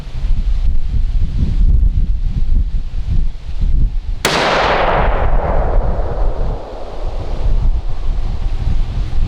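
A single 6.5 Creedmoor rifle shot fires Winchester Deer Season XP 125-grain ammunition outdoors, a sharp loud crack with a decaying echo, heard over steady wind noise.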